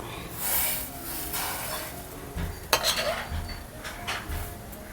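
Butter goes into a heated pan to be cooked down into homemade ghee, with metal clinks and scraping of a utensil against the pan and a soft background hiss, close by.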